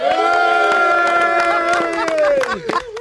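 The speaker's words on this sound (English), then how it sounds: "It's a little more subdued crowd." Crowd at the Motorcycles and Misfits Extravaganza rally at Hollister Hills SVRA, cheering and shouting loudly and continuously throughout, with scattered claps and yells rising over the dense crowd noise.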